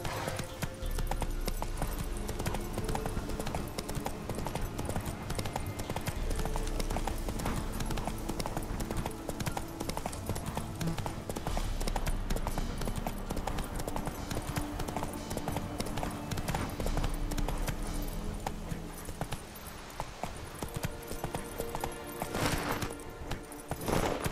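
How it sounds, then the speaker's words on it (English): Horse hooves clip-clop at a steady, continuous rhythm while riding in The Witcher 3: Wild Hunt on PS4, loud and close throughout with game music and ambience underneath. "Whoa there, Roach."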